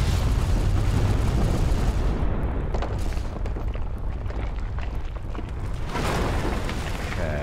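A grenade going off in Fallout: New Vegas, a loud booming blast with a long rumbling tail and a second swell of debris noise near the end, with no talking.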